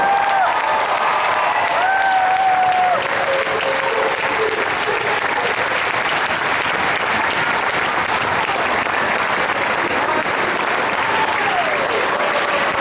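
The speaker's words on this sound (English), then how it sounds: "Now a round of applause for all these wonderful kids." Sustained applause from a large audience at an 8th-grade school band recognition event, dense and steady clapping throughout, with a few faint voices or whistles early on.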